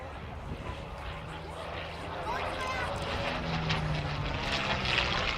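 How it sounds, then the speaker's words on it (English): A P40 Kittyhawk's V12 engine drones at an air show, a propeller aircraft climbing from a distant hum into a louder, rising roar as it nears, with an announcer talking over it. "Wonderful sound from that V12 engine."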